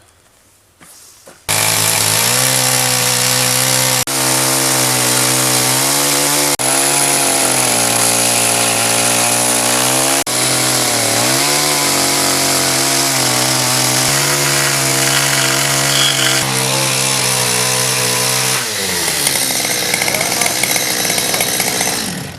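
A chainsaw cutting a tree trunk for a mezzanine in an artist's workshop, starting abruptly and then roaring loud and steady for about twenty seconds, its pitch dipping and rising as the blade bites into the wood.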